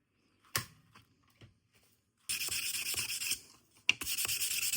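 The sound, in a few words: sanding an old Morakniv knife blade with sandpaper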